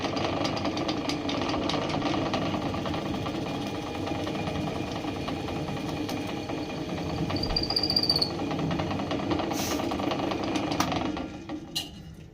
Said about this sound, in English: First thing I will do is drill a hole.